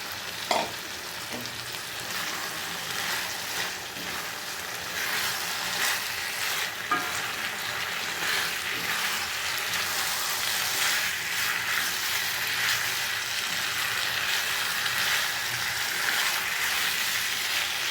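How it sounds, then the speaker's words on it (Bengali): Pre-fried beef stir-fried in a pan with sauces and sugar for Chinese-style beef chilli, a steady close sizzle with scraping stir strokes throughout, no talking. "এবারে দিয়ে দিচ্ছি ভেজে রাখা বিফগুলো"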